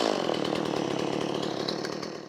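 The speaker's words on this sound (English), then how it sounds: "When you're running your saw, the chain brake will stop the chain from moving." A chainsaw engine runs loud and close with a steady buzzing drone, its pitch falling slightly as it winds down over a couple of seconds.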